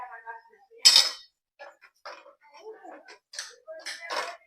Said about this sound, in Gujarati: ઉપરથી થોડુંક નાખ દઉં ઘી અને પછી કરી દઉં મિક્સ.